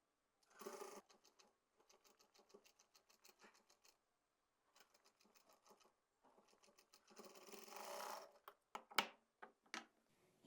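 A sewing machine stitching a six-panel plazo: several bursts of rapid needle clatter separated by pauses, with short start-stop runs and one longer steady run, close and alone.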